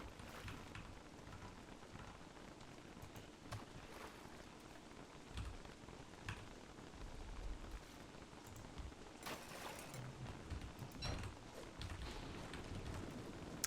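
Steady rain falls in a video game, a dense even hiss of drops with a few brief louder bursts like distant thunder, heard alone without talk.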